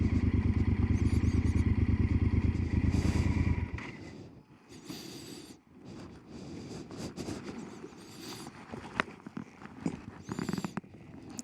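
A motorcycle engine runs steadily and loud up close for the first few seconds on the way to a crowded spring, then cuts out, leaving scattered clatter, footsteps and quieter outdoor noise.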